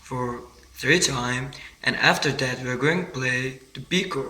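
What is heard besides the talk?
No distinct noise like a dog, phone or traffic.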